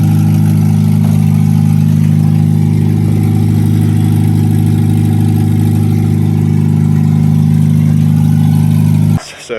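A Honda Civic EP3 Type R engine runs with its exhaust and catalytic converter missing, giving a loud, steady, buzzing drone that holds constant for about nine seconds before stopping suddenly.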